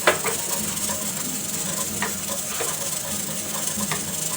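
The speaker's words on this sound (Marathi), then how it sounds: "या मसाल्याने सुद्धा तेल सुटेपर्यंत चांगलं आपण तेलात परतवून घ्यायचं आहे" Dry spice masala sautéing in oil in a kadhai over a low flame for homemade red-masala chicken gravy, giving a steady soft sizzle with occasional light spoon scrapes, fairly close and alone.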